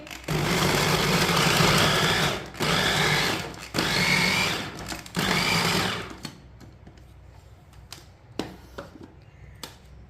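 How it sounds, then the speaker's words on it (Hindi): An electric chopper whirs loudly through chopped paratha filling ingredients in several bursts of a few seconds each, separated by short pauses, then falls to quiet clicks and light handling sounds. "अब इसे सब चीजों को ना अच्छी तरह चॉप कर लेंगे"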